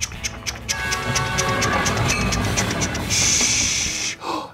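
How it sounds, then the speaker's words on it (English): A train sound effect with a steady rolling rumble, rhythmic clicking and a hissing burst near the end, loud and close with no talking. "Do you hear that? It's the idea train."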